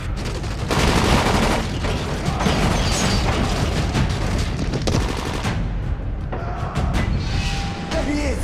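Dense, loud automatic gunfire in the video game Dying Light, a steady hammering fusillade of close shots with booms that continues nearly throughout before thinning into scattered bursts near the end.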